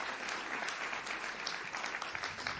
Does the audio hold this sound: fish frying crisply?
no